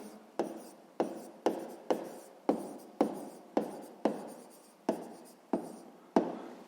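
A pen writes by hand on paper while working a sixth-grade maths exercise, making about ten short, quiet scratching strokes in a steady rhythm, each fading quickly, with no voices.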